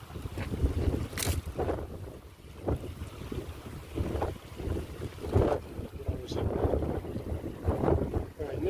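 Wind gusts outdoors around a tree where watercolors are hung, rising and falling in buffeting surges with rumbling microphone wind noise and faint background voices.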